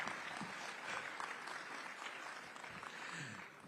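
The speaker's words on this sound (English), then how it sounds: "You can be a little more generous with the applause." An audience claps at a formal morning event, a dense, fairly quiet patter of many hands heard at a distance, continuing steadily throughout without speech.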